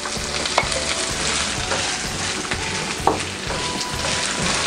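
Onion and ginger are sautéed in a pan, with a continuous sizzle broken by spatula stirs and a couple of sharp clacks against the pan, no talking.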